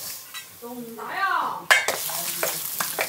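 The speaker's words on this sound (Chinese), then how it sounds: "猪肚下锅，小杨，锅整大哟" Pig stomach hits a large hot wok over a wood fire, bursting into a loud crackling sizzle that continues with scraping and clatter of utensils, while people talk nearby.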